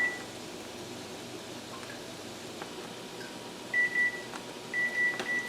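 A kitchen timer beeps in short electronic tones, first a pair of beeps and then another few near the end, over a low steady background hum, while jam cooks at a boil.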